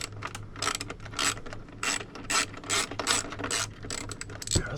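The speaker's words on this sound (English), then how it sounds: "so we're going to unscrew all these" A ratchet clicks in quick repeated bursts while screws are backed out of the console of a 2015 Cadillac SRX during a CUE screen replacement, close and crisp with short pauses between runs.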